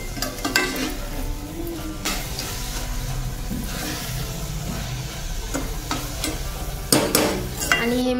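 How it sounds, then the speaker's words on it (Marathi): A spoon stirs a sweetened coconut and milk mixture for ladoos in a pan, a close scraping and sizzling bed punctuated by sharper clacks of the spoon against the metal, uneven in rhythm and moderately loud. "आपण त्यात साखर टाकू आणि साखर टाकूनही त्याला व्यवस्थित मिक्स करून घ्यायचे आता"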